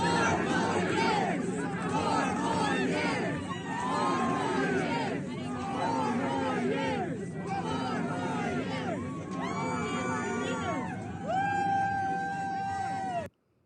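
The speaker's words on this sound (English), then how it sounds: "there's a massive crowd of people here waiting to see the former president" A huge crowd at the Iowa State Fair, a steady babble of many voices with some louder calls and shouts rising out of the hubbub, heard from within the throng.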